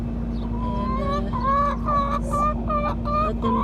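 Chickens cluck steadily and fairly close near a clutch of hatching eggs in a town backyard, a run of repeated bird calls over a constant low electrical hum, with no talking.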